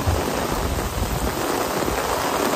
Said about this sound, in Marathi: आज फुल ऑन पाऊस धमाल